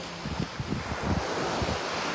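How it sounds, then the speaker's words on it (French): Waves wash onto a shore at close range, a steady broadband surge with soft rolling swells and a bit of wind buffeting the microphone, and no voices. "le bruit des vagues"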